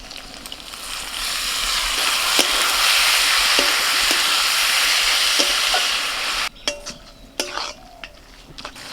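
Mashed banana flower goes into a pan of shrimp and potato for a Bengali ghonto, setting off a loud, steady frying sizzle with occasional stirring scrapes, then the hiss drops away and spoon-on-pan clinks and knocks follow.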